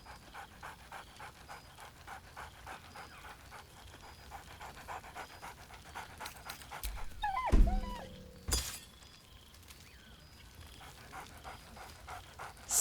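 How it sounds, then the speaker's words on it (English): Dog panting steadily in Baldur's Gate 3, with a sharp shattering burst midway and a second loud crash soon after, all under a constant game ambience. "Scratch barks merrily in something like agreement."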